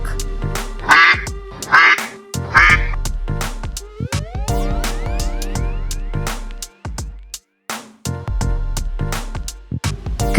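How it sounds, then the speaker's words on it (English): Duck quacking in several short bursts, loud and close, over a steady background of bright musical tones with no talking. "Duck."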